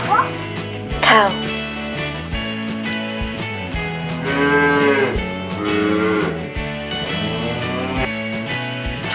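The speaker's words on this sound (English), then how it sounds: "Cow." A cow moos loudly over a bright musical backing, the long call sitting among tune and toy-like sounds, one of a string of animal calls.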